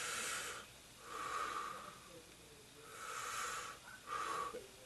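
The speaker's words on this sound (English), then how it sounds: "If they just took a stick or a Sharpie like this and just did the exercise of breathing" Slow deep breathing exercise, long inhales and exhales repeating in a steady rhythm, close and soft, with no talking.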